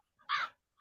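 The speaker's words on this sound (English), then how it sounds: "Those are crows." Two short, harsh crow caws, close and fairly loud, the second cut off at the end, with quiet between them.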